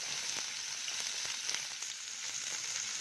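Onion fries in a pan, giving a steady bright sizzle with light crackling, close and fairly quiet, no voices.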